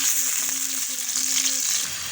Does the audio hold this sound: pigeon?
no